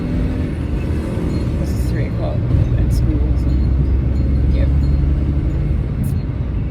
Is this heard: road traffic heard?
yes